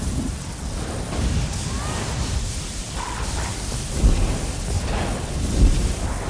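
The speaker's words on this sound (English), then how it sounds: "wait for the lightning to go away first" Lightning storm effect in The Elder Scrolls Online video game: a steady roar of rumbling, rain-like noise with low thunder swells near the middle and end, loud and continuous with no talking.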